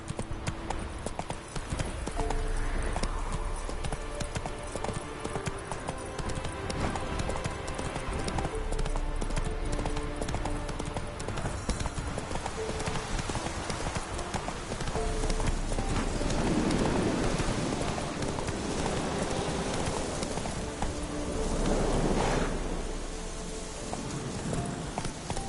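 A horse gallops in a PS4 video game, with continuous rhythmic hoofbeats that hold at a steady pace over a dense bed of game ambience throughout.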